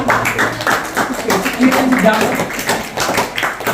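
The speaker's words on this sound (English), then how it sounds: "Give applause for parents" An audience claps for parents at an educational session, quick uneven clapping mixed with voices talking over it.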